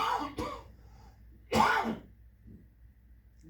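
Two distinct coughs, a short one near the start and a louder, harsher one a second later, with quiet between.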